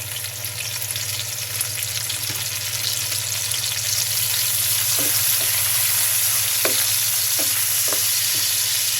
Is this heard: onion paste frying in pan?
yes